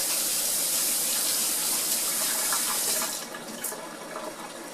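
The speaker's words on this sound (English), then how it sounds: "wash the fingers off" Tap water runs steadily into a kitchen sink while fingers are rinsed off. The rushing flow is loud and continuous and softens slightly near the end.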